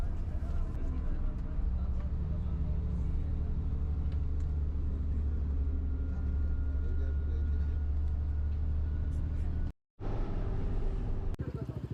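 A KSRTC double-decker bus travels through Munnar with its engine producing a steady, heavy rumble heard from the upper deck, with faint voices underneath and one brief dropout.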